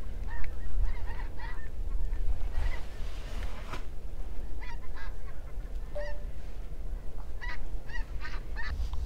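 A flock of snow geese honks in repeated bursts from moderate distance over a steady outdoor wind rumble during a field hunt, with calls clustering and fading across the stretch.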